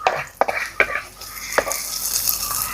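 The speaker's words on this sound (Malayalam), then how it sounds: "ഈ കറിവേപ്പില നമ്മൾ കൂടുതലാക്കില്ല, വെറുതെ ഒന്നിങ്ങനെ ഇളക്കി കൊടുക്കും." Curry leaves being stirred into an okra curry in a pan: a few sharp scraping strokes and clinks of a utensil against the pan over a soft, steady sizzle.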